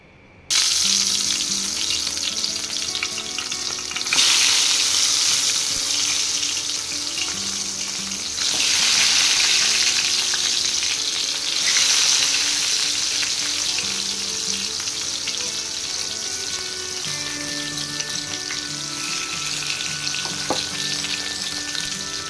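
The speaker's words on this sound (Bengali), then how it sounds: "তো এবার সরষের তেলটা গরম হয়ে গেছে, এবার এর মধ্যে বেগুনগুলো দিয়ে দিব।" Brinjal slices fry in hot mustard oil with a loud, continuous sizzle that surges in several bursts as pieces shift in the pan, with no voices.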